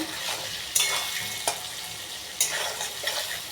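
Potatoes sizzle in hot oil in a pan, a steady close frying hiss broken by several sharp scrapes and clinks as a utensil stirs against the metal.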